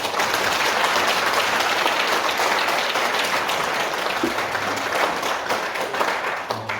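A church congregation applauds loudly at a Korean thanksgiving service for a pastor's installation, an elder's retirement and deacon ordinations; close, dense clapping holds steady for several seconds.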